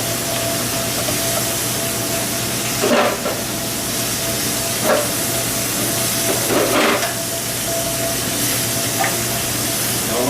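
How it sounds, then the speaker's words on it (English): Sweet onions, celery and red and green peppers sautéing in a pan, a continuous close sizzle and hiss with a few brief louder bursts of spatter or stirring. "Saute this until the vegetable is really nice and tender and translucent."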